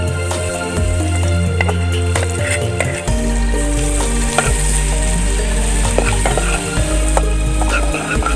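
Hot oil sizzles loudly and steadily in a pan while cooking a spicy candlenut yellow-broth golden apple snail dish, with occasional clinks and stirring thuds over the constant frying hiss.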